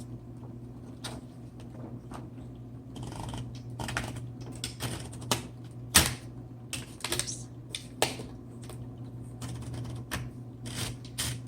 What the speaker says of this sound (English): let's load our paper, and I'm going to go ahead and flip up my paper holder